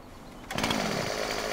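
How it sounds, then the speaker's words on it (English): A chainsaw in Farming Simulator 2017 revs up suddenly after a quiet moment, its engine settling into a loud, sustained buzzing whine close by. "Why do I always get my chainsaw out?"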